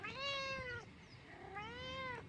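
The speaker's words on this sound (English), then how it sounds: "Oh, look at this ridiculous cat." A cat meows twice, close and clear, each call a long drawn-out wail, with a steady low background hum beneath and no talking.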